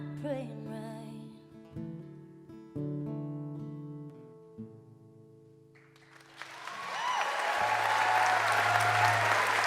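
Applause from an audience swells in the second half, a dense, loud clatter of clapping that follows a sung passage with sustained tones.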